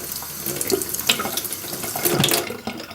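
Warm tap water runs steadily into a sink while paint brushes are rinsed at the end of a painting session, a continuous close splashing flow with no voices.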